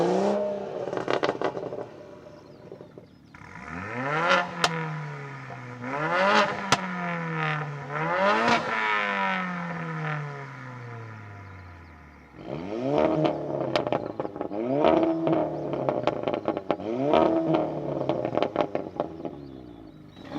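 Tuned hot hatches, an Audi RS3, BMW M140i, VW Golf R and Mercedes A45 AMG, rev hard one after another, with rising and falling engine sweeps, sharp crackles and pops between blips, loud and close.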